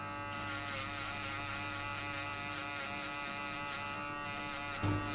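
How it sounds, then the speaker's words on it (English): An electric shaver buzzes steadily and close-up while shaving hair for a mid skin fade at a barber, a continuous even hum with a brief louder scrape near the end. "Now grab your shaver and shave halfway"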